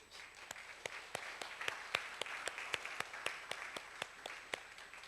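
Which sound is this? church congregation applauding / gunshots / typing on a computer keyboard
church congregation applauding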